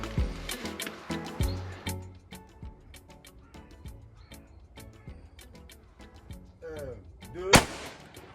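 Shotgun firing a copper-ball cartridge during an outdoor hunt, a sharp loud blast near the end following a stretch of scattered impulsive bangs and clatter, with a few distant voices.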